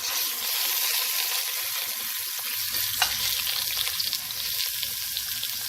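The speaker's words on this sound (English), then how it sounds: "It's nice and seared. but I like to sear it a little bit more." A pork roast sears in a pan, a loud constant sizzle of hot fat with crackling spits and a low clatter from about halfway through as it is shifted, no voices.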